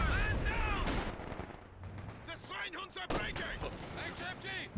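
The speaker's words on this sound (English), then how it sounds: "Machine gun about facing. Keeping the suppression on this with the weapon crew firing at them." Machine gun fire in the Company of Heroes 2 strategy game, a weapon crew laying down suppression, rattles in repeated bursts beneath ongoing commentary, with other battle noise mixed in.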